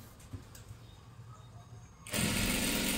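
A sewing machine starts up partway through on salwar fabric, a sudden loud, steady mechanical whir following quiet room noise and a soft knock, close by with no talk.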